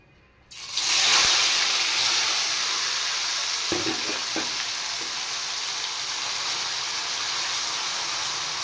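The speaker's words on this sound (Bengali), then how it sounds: "এবার আমি মাছগুলো দিয়ে দেব।" Fish drop into hot oil already crackling with fried dried red chillies, bursting into a sudden loud sizzle that settles into a steady roar, with a few spatula clicks partway through and no talk.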